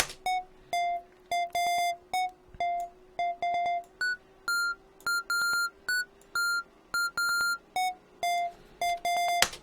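Bright, short dubstep lead synth notes from u-he Hive pulse in a choppy, repeating pattern with sharp stops between phrases, electronic and tonal, over a faint steady hum.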